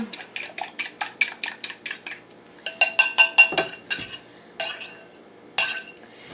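Two eggs and butter beaten in a bowl: a fork or whisk clicks rapidly and evenly against the bowl, pauses, then resumes in louder, irregular taps.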